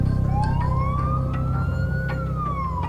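An ambulance siren wails on the way to hospital with a critical patient aboard, a single slow tone rising and falling over steady engine and road rumble.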